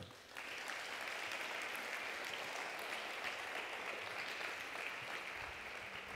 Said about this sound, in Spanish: Dar un aplauso